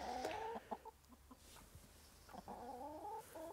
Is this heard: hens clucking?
yes